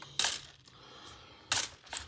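Coins clink and clatter in two short bursts as bank coin rolls are sorted by hand during coin roll hunting, close and fairly loud with quiet gaps between.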